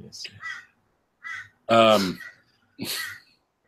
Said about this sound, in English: Yeah, it's a crow. It's a crow.